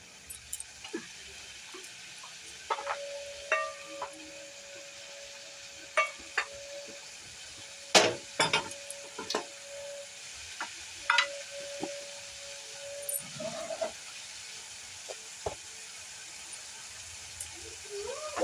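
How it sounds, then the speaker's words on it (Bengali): Spice masala frying in oil while a spoon stirs it: a steady low sizzle and hiss with scattered scraping clicks and taps against the pan, no voices. "এবার মশলাটা তেল ছাড়ুক মশলাটা ভালো করে কষতে হবে"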